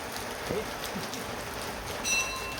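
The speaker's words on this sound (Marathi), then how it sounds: "पाऊस चालू आहे थांब थोडासा पाऊस जाऊ दे" Steady light rain patters throughout at moderate level, with a few brief louder drips and a faint high tone near the end.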